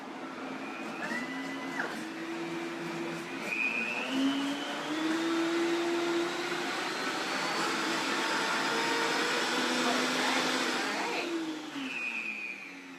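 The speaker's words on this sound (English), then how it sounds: "I just blended it for 30 seconds." A blender whirs through no-churn avocado ice cream, a close motor drone whose pitch steps up and down as the speed changes, then winds down after about thirty seconds.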